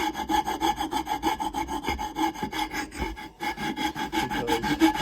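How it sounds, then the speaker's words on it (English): Bandsaw cutting through a walnut board, a loud continuous rasping buzz with rhythmic pulsing as the blade feeds through the wood, close and uninterrupted, with no voices. "I'm gonna take that over and I'm gonna open that a little bit in the bandsaw."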